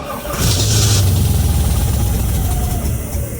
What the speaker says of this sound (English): You just heard a cold start.